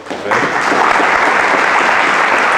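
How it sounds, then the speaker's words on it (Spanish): Audience applause breaks out for a lecturer at a scientific talk, starting after a brief moment and sustained as a dense, steady wash of clapping from a full room. "un aplauso para el maestro"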